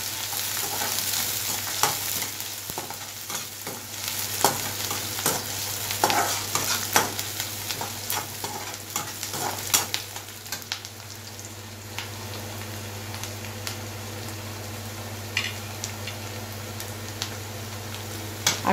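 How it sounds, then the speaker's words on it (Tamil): Curry leaves and onions fry in a pan with a continuous sizzle, while a utensil stirs and scrapes in irregular taps and clicks, louder in the first half and then settling into a quieter, steady crackle. "இப்போ கருவேப்பிலையும் போடுறேன். அதில் நல்லா வதங்கணும் வெங்காயம்."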